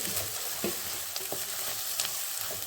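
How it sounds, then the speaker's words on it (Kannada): Chopped capsicum sizzles softly in hot oil in a pan while being stirred for pav bhaji, giving a steady frying hiss broken by a few light scraping stirs. "ಕ್ಯಾಪ್ಸಿಕಮ್ಮು ಸ್ವಲ್ಪ ಎಣ್ಣೆಲಿ ಫ್ರೈ ಆದ್ರೇ ಟೇಸ್ಟು"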